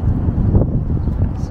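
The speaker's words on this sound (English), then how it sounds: "You cannot hide away from the wind." Steady wind buffets the microphone in Windsor Great Park with a low, continuous rumble and gusty fluctuations.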